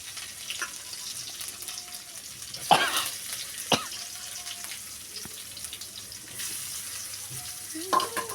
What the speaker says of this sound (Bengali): তো পেঁয়াজ কুচি এবং রসুন কুচি আমি দিয়ে দিলাম দিয়ে ভালোভাবে নাড়াচাড়া করে নিয়ে